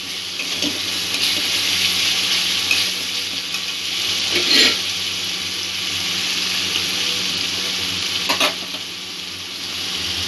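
Masala spices, with oil starting to separate, being stirred in a pan and sizzling steadily with a bright hiss for about ten seconds, with a few louder scraping stirs and no talking.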